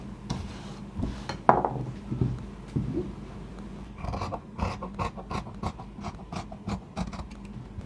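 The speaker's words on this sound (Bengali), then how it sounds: "তো প্রথমে পেছনের গলাটা কাটিং করে নিচ্ছি।" Scissors snip baby-dress fabric to shape the back neckline, giving scattered short cuts and rustles with light clinks close by. No one speaks.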